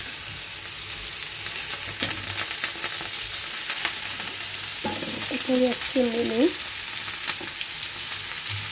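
Potatoes fry in a pan with a steady, close hiss and crackle running throughout, and a brief voice speaks partway through over the sizzle.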